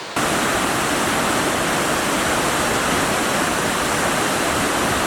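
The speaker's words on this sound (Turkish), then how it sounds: "Hani bu şelalenin akışı, serinliği, hiçbir şekilde doğasıyla oynanmamış." Tomara Waterfall pours in a constant, loud broadband rush of falling water that starts abruptly and holds steady throughout, with no voices.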